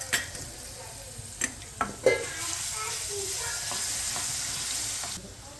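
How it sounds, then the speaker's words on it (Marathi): Cumin, mustard seeds, asafoetida and garlic-ginger paste drop into hot oil. A few sharp clinks and spatters lead into a steady, fairly soft sizzle that fades near the end. "तेल तापलंय, थोडासा जिरं मोहरी टाकायचंय, थोडासा हिंग, लसण अद्रकची पेस्ट"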